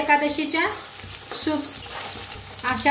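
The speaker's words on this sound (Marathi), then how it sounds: "आपलं बटाटो बी मस्त असं भाजायला लागले बघा" Potatoes fry in a pan for sabudana khichdi, giving a steady close sizzle with scraping and stirring strokes at a few points, and no talk over it.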